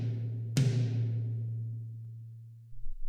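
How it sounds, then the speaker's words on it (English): A single drum hit from a set with snare, bass drum and toms, loud sharp attack followed by a long sustained low boom that decays over about two seconds, with a faint second onset near the end. "Together with a snare drum and a bass drum of varying size, the combination of the 4 drums became a set."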